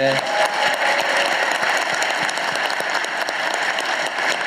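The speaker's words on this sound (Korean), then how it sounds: "박수 한번 보내주십시오." Steady applause from a town hall meeting crowd in Chungbuk, South Korea, dense and continuous at moderate volume, with a few louder claps standing out.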